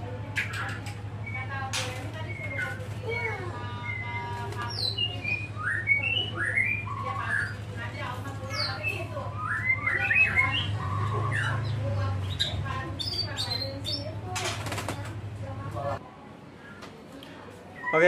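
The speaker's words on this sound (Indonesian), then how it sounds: "Tanpa di track burung bunyi" Busy, varied song of a white-rumped shama (murai batu), a rapid stream of chirps, squawky notes and whistles close by over a steady low hum that cuts off near the end.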